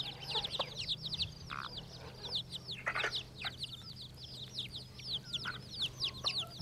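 Chicks, a bantam hen and guinea fowl cluck and chirp on an old-style farm, a busy scatter of high peeping calls and short clucks over a low steady hum, moderately near.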